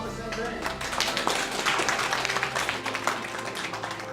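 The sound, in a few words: audience applause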